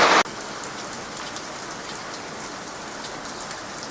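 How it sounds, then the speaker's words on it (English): Hail pelts a porch during a supercell storm, a thick continuous patter of hard pellets that follows a brief loud burst at the very start. "Oh, that's hail. That is pure hail."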